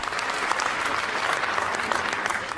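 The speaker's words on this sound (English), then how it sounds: "Listen to the applause." Thick, continuous applause from a large audience, many hands clapping at once in an even, sustained wash with occasional sharper claps poking through.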